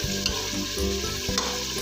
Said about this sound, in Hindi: टमाटर भून रहे हैं इसमें